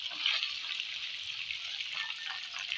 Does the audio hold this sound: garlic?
yes